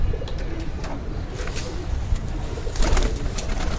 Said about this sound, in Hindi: मैं दूसरा एक कबूतर निकालने लगा हूँ